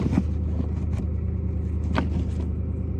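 A truck's engine idles with a steady low rumble and vibration, and a few faint knocks and rattles are heard over the constant drone.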